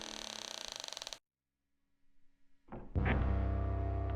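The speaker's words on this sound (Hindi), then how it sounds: "दरवाजा चरचराता हुआ अंदर की तरफ खुला।" Large door creaking open as a horror story sound effect, a long rhythmic creak followed by silence, then scraping and a loud low thud with rumbling.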